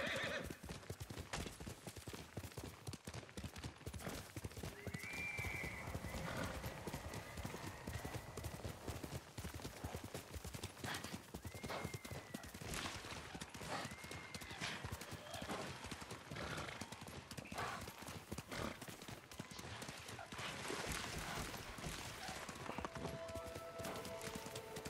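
Horse hooves clip-clopping in the video game Ghost of Tsushima, a steady rhythmic trot mixed with a neigh or whinny, close and continuous throughout.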